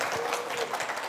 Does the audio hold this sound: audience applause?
yes